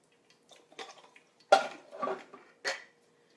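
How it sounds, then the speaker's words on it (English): An opened can of corn is drained over a sink, giving a few short metallic clanks and knocks of the can with brief splashy trickles, close and fairly quiet with gaps between. "I have my can of corn, which I've opened. I will drain here."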